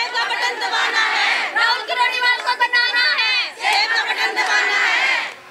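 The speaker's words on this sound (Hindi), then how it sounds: "इनके नारेबाजी देख लीजिए पहले तो किस तरह की बातें हो रही हैं" A large crowd of election supporters in Haryana shouting slogans together in loud, rhythmic chanted bursts, with voices overlapping and a short break midway before the chant resumes.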